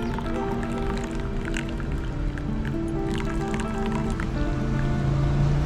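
Kape Amadeo coffee is poured a second time at a coffee shop in Cavite, giving a continuous close trickle and splash of liquid with a steady, unbroken flow.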